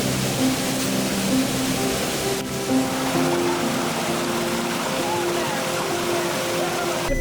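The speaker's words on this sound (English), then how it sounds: "we stumbled on a much more breathtaking waterfall after we left" Waterfall in the Troodos Mountains of Cyprus in winter, a steady broad rushing roar of falling water that fills the scene evenly from start to end, with a brief dip partway through.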